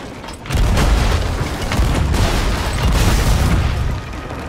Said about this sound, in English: That a cannonball?